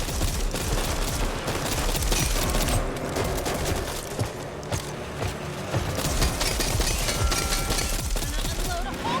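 Dense, continuous automatic gunfire from the Back 4 Blood video game rattles loudly for the whole stretch, rapid shots stacking into a sustained barrage with mechanical clatter mixed in.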